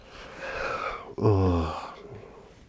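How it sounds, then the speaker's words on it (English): A man's long, drawn-out yawn, heard close and alone: a breathy rise swelling into a voiced, sighing stretch before trailing off. "it wouldn't matter what hour of the day it was, I would still yawn"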